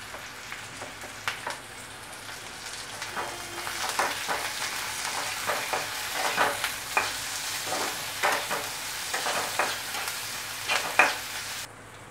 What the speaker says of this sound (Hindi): अब इसमें हम ये पटल का मसाला डाल देंगे और इसे चलाएंगे।